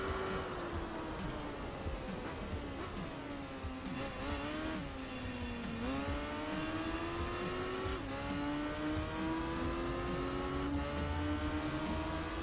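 Racing motorcycle engines in Tourist Trophy on PS2 wail at high pitch, revs rising and dropping through gear shifts, with tire squeal and passing bikes in a continuous loud rush.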